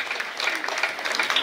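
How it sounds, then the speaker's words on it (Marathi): Audience at a Marathi drama stage event applauds steadily, many hands clapping at moderate volume with a faint murmur of voices. "टाळ्या जरा जोरात होऊ द्या ना."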